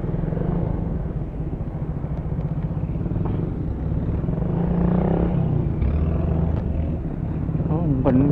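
A Suzuki Raider 150 motorcycle is being ridden, its engine droning steadily and close throughout, with road and wind rush mixed in.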